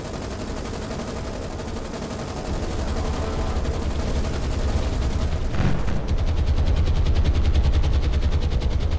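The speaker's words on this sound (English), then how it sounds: "Coming in, looks like they're doing a strafing run, throwing everything at our ships" Aircraft strafing run on ships in the War on the Sea naval video game: continuous dense machine-gun fire, loud and sustained, intensifying partway through, with no talk.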